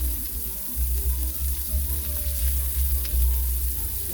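Shrimp sizzle and fry in a hot pan, a steady close crackle with no talking.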